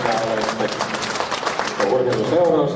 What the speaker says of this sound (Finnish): vielä kerran aplodit näille merkillisille ihmisille